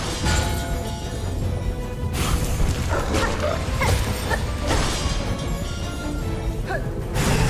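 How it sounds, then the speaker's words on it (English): A creature in a busy Hollow Knight Silksong game scene gives out dog-like barks and yips amid steady mechanical clatter and sharp impact noises. "This thing makes dog noises."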